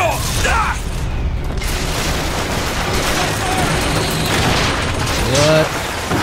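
Turret gunfire in the BioShock Infinite video game comes as loud bursts and booms over a busy battle soundscape, with clanking mechanical effects layered throughout.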